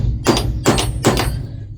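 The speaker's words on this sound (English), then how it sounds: "centre punch, just to make sure it goes in the right spot." Three sharp hammer blows on a centre punch, marking hole positions for drilling while fitting road-sign cladding inside a retro VW T4 van; evenly spaced, close and distinct.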